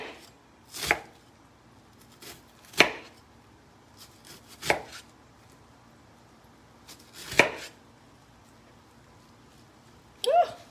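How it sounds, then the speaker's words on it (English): A knife cutting slits across an onion on a board, four or five sharp separate chops spaced a second or two apart, close and clear against a quiet background. "I cut slits going all the way across the onion"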